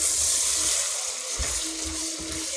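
Onions fry in a pot for Libyan couscous, giving off a steady, fairly loud hiss and sizzle with faint bubbling and occasional soft stirring knocks underneath.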